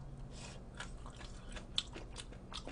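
Biting and chewing a hot steamed blue crab leg, heard as close, soft crunching and mastication noises in an irregular rhythm with no talking.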